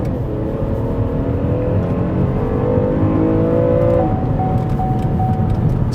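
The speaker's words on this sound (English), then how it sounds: "So I'm gonna roll into it a little bit, and then I'm gonna hit the throttle." A Lexus NX200t accelerates hard at full throttle, heard from inside as a loud, steady engine drone whose pitch climbs through the gears under road rumble, with no speech.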